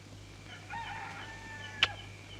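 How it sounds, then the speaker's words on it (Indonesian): A rooster crows once at dawn in a 1973 Indonesian film, a moderately distant cock-a-doodle-doo over a steady low hum, followed by a brief sharp click. "Ayam sudah bangun."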